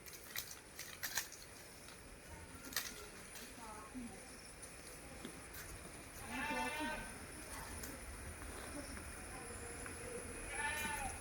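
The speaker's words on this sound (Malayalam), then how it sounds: "നല്ല സൈസുള്ള ഒരാട്." A large goat on a livestock sale farm bleats twice, mid-distance, over a hum of ambient outdoor noise and faint background voices.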